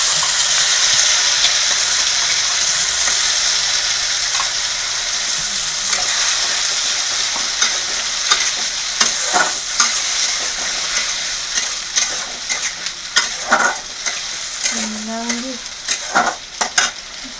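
Spice paste fries in hot oil in a pan while being stirred, a loud continuous sizzle with scraping stirring strokes growing more frequent toward the end.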